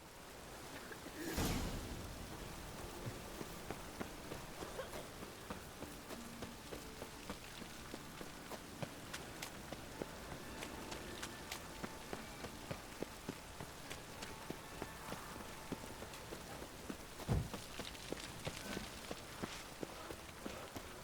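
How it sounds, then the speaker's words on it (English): Soft, steady rainfall in the video game The Witcher 3 pattering on surfaces, with scattered drips and an occasional louder thump, no talking. "It's raining again."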